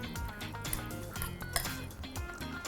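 Utensils clinking against a pot or pan while stirring sweet potato kumpir filling of lentils and tomato, repeated light metallic chinks and scrapes close up, alone without talk.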